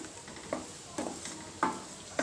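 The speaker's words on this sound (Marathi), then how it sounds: "चांगलं असं बारीक गॅस करून, बारीक मोठा गॅस करून असं आपण ढवळत राहिलो एक जीव होईपर्यंत" A mango barfi mixture with sugar and coconut stirred in a pan over the gas flame, its steady sizzle and bubbling broken by four soft scraping strokes of a spoon, close and moderately quiet.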